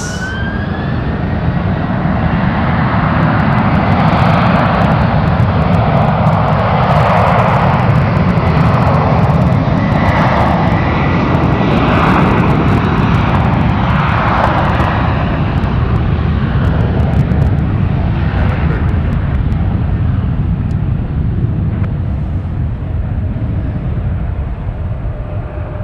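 An SAS airliner takes off from runway 1 right at San Francisco, its engines a loud, steady roar that builds and holds for the full stretch, with broadband jet noise throughout.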